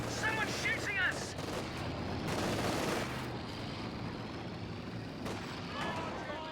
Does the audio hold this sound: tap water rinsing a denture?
no